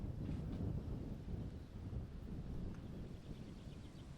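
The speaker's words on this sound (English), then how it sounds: "it's a tough wind for that shot right now too" Wind gusts across an outdoor disc golf course during a tournament round, a low, rumbling buffet of microphone noise that swells and eases without any voices.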